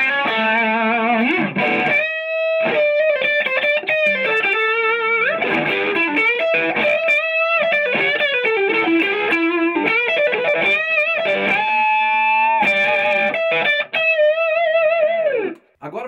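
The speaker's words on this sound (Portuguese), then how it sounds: "vamos sacar o timbre dele, só o drive do ampli, sem reverb e sem o booster" An electric guitar runs through a Giannini Classic T tube amplifier, overdriven by the amp's own drive alone, with no reverb and no booster. Loud, sustained distorted notes, chords and bends play continuously and end abruptly.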